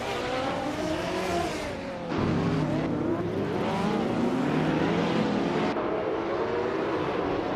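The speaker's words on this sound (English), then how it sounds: "the race is kicking off at Golden Port, and Hingle McCringleberry is starting on pole in a classic 1996 Porsche 911 GT1" A classic 1996 Porsche 911 GT1 and rival race cars launch off the start at Golden Port in a racing video game, with engines loud and close, revving and climbing in pitch through gear changes amid dense overlapping roar.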